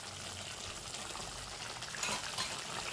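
Spicy, tangy tomato chutney boils in a pan, giving a close, continuous bubbling and sputtering hiss that swells slightly toward the end.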